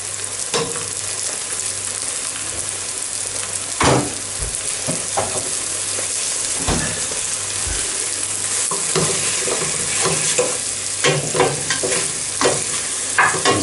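Shaggy Parasol mushrooms frying in butter alongside smoked bacon in a pan, a loud continuous sizzle with repeated scraping and stirring knocks throughout, no speech.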